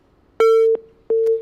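A telephone busy tone follows a dropped call on a radio phone-in show, sounding as loud, clean repeating beeps, two long tones separated by a short gap, with no talk.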